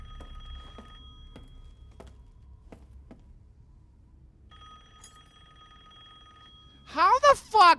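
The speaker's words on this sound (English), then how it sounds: "I hear a phone." Telephone ringing in Resident Evil Village: a faint electronic tone pattern hums in the background with soft thuds, then a loud, near bell-like ring bursts out in two short rapid trills near the end.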